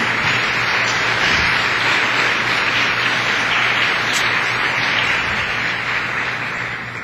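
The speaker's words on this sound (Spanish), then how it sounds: "¿Por qué no hace un aplauso al Señor?" A church congregation applauds the Lord in a sustained, dense wash of clapping from a large crowd, loud and even throughout with no voices on top.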